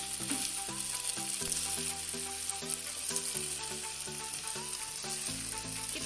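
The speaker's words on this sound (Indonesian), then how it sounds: "Kita aduk-aduk ya guys, biar tercampur rata bumbunya." Spaghetti and seasoning being stirred in a frying pan, a steady close sizzle of frying with scraping stir sounds, while music plays over it throughout.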